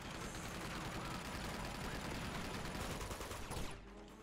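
Gunfire in the action video game Uncharted 2: Among Thieves, a dense, continuous rattle of shots that stays loud throughout and cuts off abruptly near the end.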